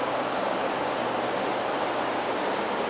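Steady broadband rush of a river stream flowing along an Alpine trout river, loud and constant throughout with no voices.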